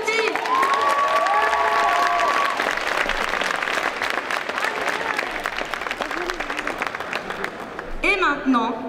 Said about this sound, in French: On applaudit bien fort Cutie!